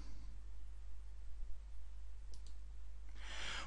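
A couple of sharp computer mouse clicks during work in Microsoft Access 2013, heard as brief, quiet taps near the middle of a low background hiss.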